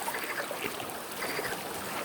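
Water babbling at Gölalan waterfall in Samsun, a soft, continuous rushing and trickling heard from nearby at low volume.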